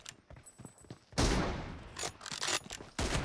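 M24 sniper rifle shots in a video game, a loud burst of gunfire after a quiet start, followed by further sharp reports, with no speech.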